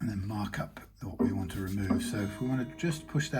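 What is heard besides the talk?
No everyday noises stand out.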